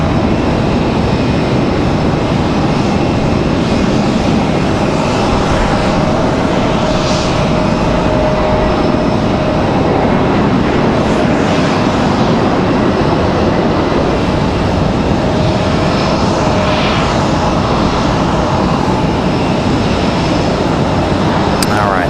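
An airliner takes off from runway 5 right at Raleigh-Durham International Airport, a loud continuous jet roar filling the whole stretch without a break, with faint radio chatter in the background.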